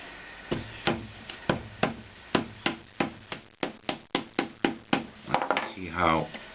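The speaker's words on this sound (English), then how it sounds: "And now it's time to hammer in the little buggers." Repeated sharp hammer strikes driving small parts into the wooden body of a Rickenbacker-style bass guitar, about fifteen close blows in an uneven rhythm, ending with a short voice.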